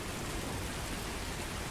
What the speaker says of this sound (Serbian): Kako ovo drvo gore na sred kiša? Znači, kakav pljusak